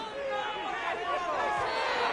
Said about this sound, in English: I'm starting to detect an uneasy murmur through this crowd.